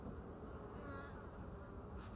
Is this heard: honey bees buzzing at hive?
yes